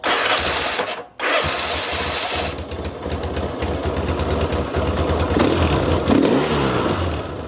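A Yamaha XS650 motorcycle engine barks into life and revs hard, a rough, throbbing near exhaust note with repeated surges, heard alone.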